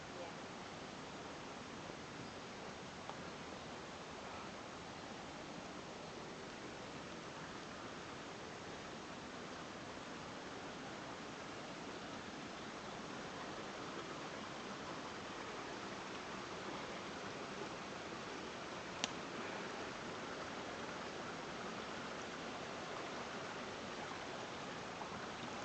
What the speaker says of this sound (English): Don't you love that sound of flowing water?